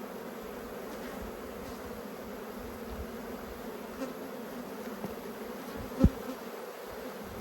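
Soft, steady buzzing of honey bees crawling around an open hive during an apiary inspection, with a faint click or knock partway through.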